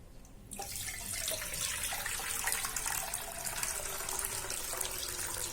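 Water rushes steadily from a tap into a container, filling a litre for a fruit-and-vegetable wash. The continuous, close splashing starts abruptly and has no talk over it.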